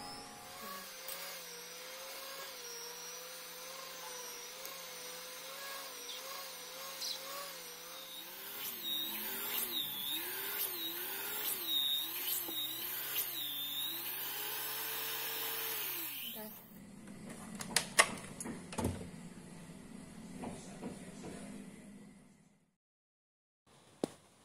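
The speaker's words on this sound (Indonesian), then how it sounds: "Udah gitu kita lanjut pakai hand mixer ya." A hand mixer kneads doughnut dough with a loud, steady motor whine that shifts pitch as the beaters labor through the dough, then cuts off to quieter scraping and handling sounds before silence.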